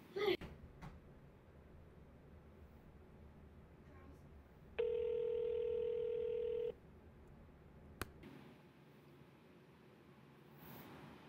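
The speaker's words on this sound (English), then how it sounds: "So I press call, you'll see that my audio is going to cut out for a minute because I'm dialing through my Mac." A call placed by dialing through a MacBook, heard as a steady multi-tone dial or ring signal lasting about two seconds mid-clip, set against quiet background hiss with a few brief clicks.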